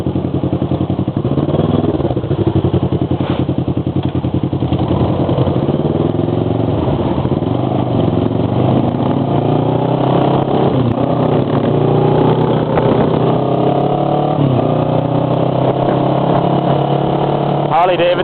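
Motorcycles, including a Harley-Davidson and a Yamaha, pass on a road, their engines droning and rising in pitch as they go by, loud and steady throughout, with a voice talking over the engine noise.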